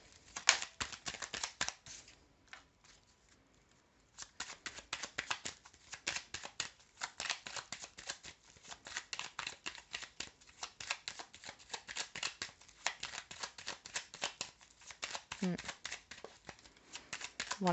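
Tarot cards shuffled continuously at close range, a dense rapid flutter of riffling with a brief pause near the start, while someone speaks quietly over it.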